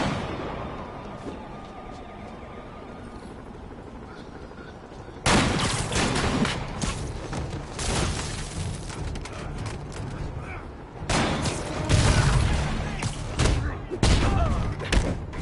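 Escaped convicts firing sniper rifles in the Spider-Man PS4 game, a low ambient stretch then dense bursts of loud, sharp gunfire cracks in two heavy volleys.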